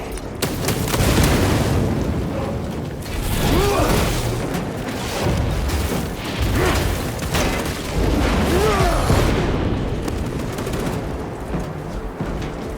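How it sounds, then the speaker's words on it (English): A frag grenade explodes in the Warhammer 40,000 video game Space Marine 2, booming through a dense, loud battle mix of gunfire and blasts that runs without a break. "Throwing frag grenade!"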